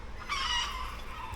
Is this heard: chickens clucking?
yes